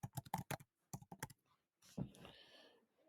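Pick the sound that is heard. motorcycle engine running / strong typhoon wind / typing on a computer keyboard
typing on a computer keyboard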